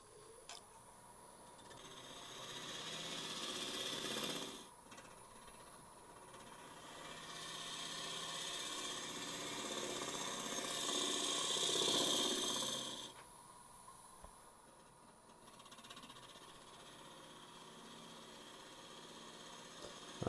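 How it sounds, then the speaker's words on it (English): A half-inch swept-back spindle gouge slices end-grain wood on a lathe for a bowl, making a steady rasping, rubbing cut that swells in passes with brief pauses between them, close and fairly quiet with no talk. "I'm going to use a half inch spindle gouge swept back, and we're just going to slice with the fibers."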